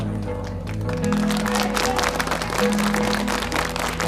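Audience applause at a live 1978 concert, scattered clapping under a sustained musical hum and low tones, moderately loud and continuous.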